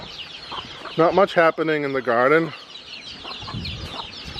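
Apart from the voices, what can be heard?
chickens clucking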